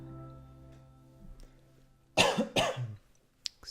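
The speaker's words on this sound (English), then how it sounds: "Eventually this cough will end, and we'll have clean videos without coughing." Two loud, close coughs in quick succession, followed by a brief throat-clearing sound, after a quiet stretch with faint background noise.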